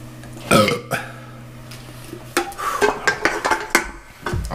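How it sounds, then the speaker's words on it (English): A hearty burp during a drinking-game challenge, one loud belch-like burst followed by clattering dishes and cutlery-like knocks and scattered bursts of activity nearby. "Oh, I got a burp."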